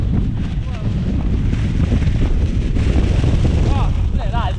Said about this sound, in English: That is windy.